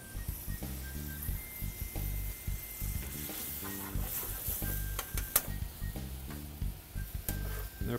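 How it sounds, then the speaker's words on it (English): Pasta and asparagus cook together in a pan, giving a steady close sizzle with stirring scrapes and soft clatter throughout, with no voices. "Our pasta's cooking nicely along with the asparagus."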